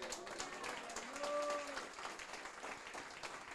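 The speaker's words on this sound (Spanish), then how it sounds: "Tributo un aplauso al Señor." A church congregation applauds during a sermon, giving a steady, moderately loud wash of clapping mixed with crowd voices and a brief sustained vocal tone.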